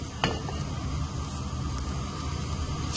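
Cooking oil sizzles in a hot pan for tomato chutney, a steady close hiss of frying with a brief clink of utensil near the start.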